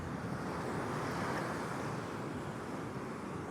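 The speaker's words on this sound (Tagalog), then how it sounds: "Ang lalaki ng alon, ha? Ang lalaki ng alon." Big ocean waves and strong wind at the seashore, a dense continuous roar of surf mixed with buffeting wind noise on the microphone, loud and steady with no talking.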